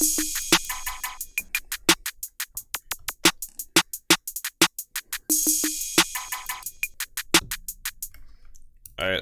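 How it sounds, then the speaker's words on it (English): A snappy clap sample serves as percussion in a trap beat, firing in rapid repeated rolls and bursts with short tonal hits mixed in. It is loud and close, with a bright crack on each hit. "he kind of just used the clap as a perk"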